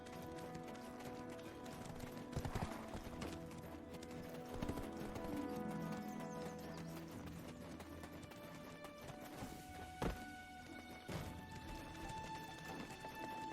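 Horse hooves clip-clop steadily in the Black Desert Online video game, a continuous quiet trotting rhythm with occasional louder knocks, set under faint game music.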